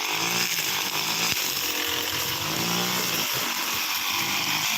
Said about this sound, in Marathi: मशीनचा आवाज जोरा येतो आणि ते गवत मोठ्या मोठ्याने आपल्या अंगावर येते